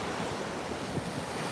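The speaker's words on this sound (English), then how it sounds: "These are some really nice waves too." Ocean waves at a beach, a steady broad wash of surf with wind rushing across the microphone, heard alone with no talking.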